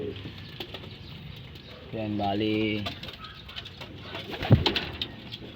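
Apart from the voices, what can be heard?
racing pigeons cooing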